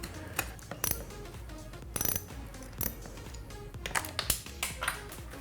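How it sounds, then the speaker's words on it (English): Small metal clicks, ticks and taps from removing two screws holding the fuel injector on a 2015 Honda CBR300R, coming in scattered close bursts with no talking. "So to take that out, we're gonna remove these two blue screws, and that should just slide right out."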